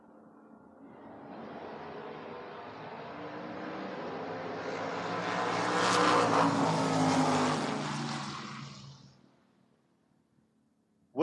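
Two drag cars launch side by side at a door-car race, a Chevrolet Monza against a Chevrolet Malibu. Their engines roar up loud and swell for several seconds, then fade off down the track into quiet.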